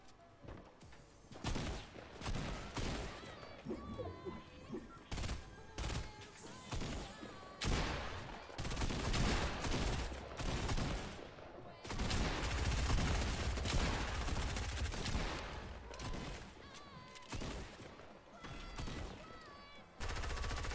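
Heavy shotgun and weapon fire in Fortnite Chapter 2 Season 2 rolls on almost without pause, loud overlapping blasts and volleys stacking into a thick, chaotic barrage across the whole stretch.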